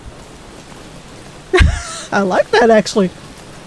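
Rain falls steadily in a video game, a soft continuous hiss of drops heard throughout while a person talks over it.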